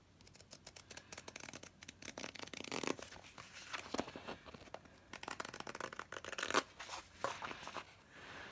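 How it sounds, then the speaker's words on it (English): Fabric scissors cut pieces of fabric for a journal cover in close, crisp, repeated snips and slides, with rustling cloth between the cuts and no talking. "I'm going to cut this out, cut that out"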